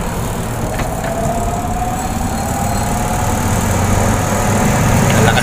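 A washing machine wash motor drives a homemade spin dryer, humming loudly and steadily up close, with a faint whine that slowly builds. No one speaks.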